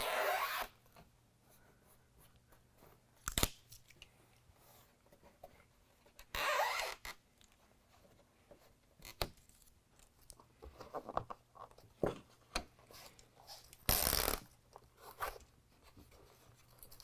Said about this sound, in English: I'll peel away the tape protector